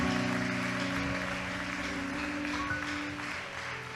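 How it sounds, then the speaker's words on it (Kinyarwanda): A church congregation applauds during a sermon: a dense, steady wash of clapping lasts throughout, layered over sustained instrumental tones, with no voices standing out. "Twamukomera amashyi bigakunda."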